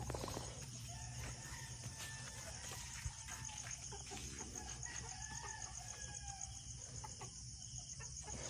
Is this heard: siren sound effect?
no